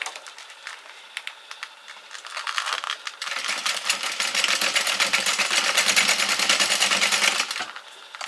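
A sewing machine stitches a mini waterproof pouch, its needle running in a fast, steady mechanical chatter for several seconds after a few quiet preparatory clicks, then stopping abruptly near the end.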